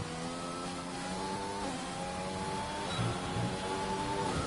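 An F2 race car engine on a hot lap in a racing video game at a wet Singapore track whines steadily, its pitch rising and falling through gear changes, fairly quiet with no talking.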